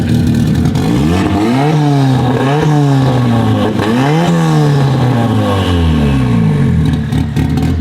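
A 1740-horsepower Nissan R34 GTR with a Rocket Bunny kit and an RB26 engine revs hard and close, its loud roar climbing and falling in several repeated sweeps with no pause.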